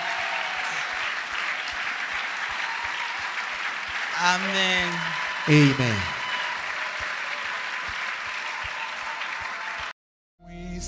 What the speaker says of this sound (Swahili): Chapia Yesu Kristo makofi.